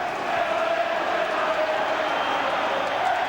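Football crowd at a Liverpool v Genoa UEFA Cup match, a broad steady roar of cheering and noise filling a large stadium, continuous and moderately loud throughout.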